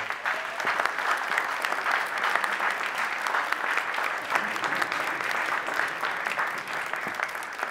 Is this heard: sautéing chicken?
no